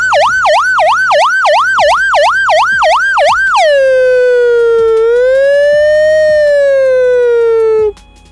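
A person's voice imitates an ambulance siren, loud and close: a rapid warbling wail for several seconds, then a long drawn-out falling and rising tone that cuts off abruptly.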